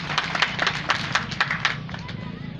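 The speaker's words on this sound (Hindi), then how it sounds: "जोरदार ताली हो जाए।" Applause at a prize-giving ceremony of the Shri Ramdev animal fair, a crowd clapping steadily and briskly for over two seconds before fading, with murmured voices underneath.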